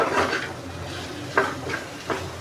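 Cooked mutton keema is stirred and sautéed in a pan, giving three scraping strokes of a spoon against the metal over a soft, low sizzle.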